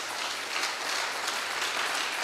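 A church congregation claps steadily and densely for a couple of seconds, a full hall of hands in continuous applause with no voices standing out.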